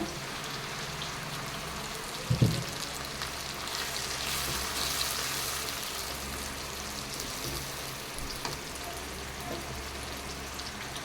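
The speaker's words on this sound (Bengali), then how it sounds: "এখন আমার পেঁয়াজটা ভাজা হয়ে গেছে লাল করে, আমি এখন এর ভিতরে দিয়ে দেবো টমেটো বাটা।" Tomato paste fries with browned onions in a pan, a quiet, steady sizzle throughout, broken by a sharp clink of utensil on pan early on and a few softer knocks later.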